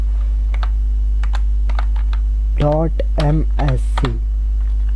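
Sparse clicks of keys on a computer keyboard as Windows+R is pressed and a command typed, scattered single taps over a steady mains hum while a person speaks in the middle.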